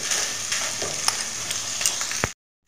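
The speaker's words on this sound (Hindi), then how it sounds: "तो अब इसे हम चलाते हुए अच्छे से मिक्स कर लेते हैं और दबाते हुए जिससे कि हमारे आलू भी अच्छे से मैश हो जाए" Potato mixture being stirred and pressed in a pan, giving soft continuous sizzling with scattered scraping taps of the utensil, ending in a sharp knock before sudden silence.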